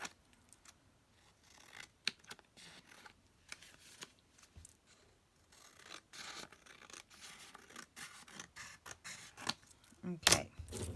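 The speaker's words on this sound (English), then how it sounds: "I'm going to trim this off" Scissors trimming a large piece of paper for a journaling craft project, scattered quiet snips and paper rustles at close range, irregular and soft, with faint handling noises between cuts.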